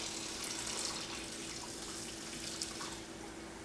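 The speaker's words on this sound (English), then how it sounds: "So let me add in a little bit of hot water." Hot water runs steadily from a kitchen tap during bread making, a continuous close hiss and splash with no voices over it.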